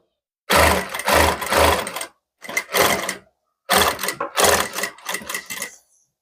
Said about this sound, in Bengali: তো আমি এইরকমভাবে ডবল ফোল্ড করে নেব নিয়ে এখান থেকে সেলাই করে নেব